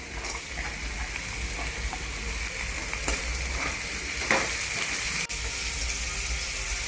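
Carrots go into a hot pan of frying vegetables for Singapore noodles, giving a steady close sizzle with a few light scraping and stirring taps, and nobody talking.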